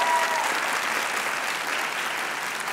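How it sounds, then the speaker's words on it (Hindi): Studio audience at a comedy talk show applauding, a steady burst of many hands clapping that carries on throughout, with a brief voice at the start. "आप एक ब्रिलियंट ऑडियंस से अपने लिए तालियां बजाइए प्लीज।"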